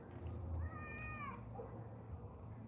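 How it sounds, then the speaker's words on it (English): Two resident house cats fighting indoors, with one drawn-out, wavering meow standing out over low background rumble and a brief lower yowl after it. "Cat fights."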